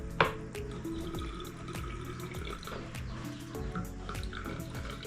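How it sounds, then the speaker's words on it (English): Tomatoes are rinsed under running water from a kitchen tap, a steady close splashing stream with dripping and a few light clatters, no one speaking. "I just rinse them with water."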